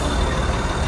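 Loud, close diesel engine of a yard truck (jockey/yard dog tractor) running in reverse with a steady rumble; any reversing beeps are buried in the engine noise.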